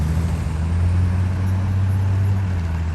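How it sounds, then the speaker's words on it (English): Steady road traffic drones close by beside a railroad line in the rain, a continuous low rumble of passing cars and trucks with no breaks or talk. "Boy, there's a lot of traffic right now."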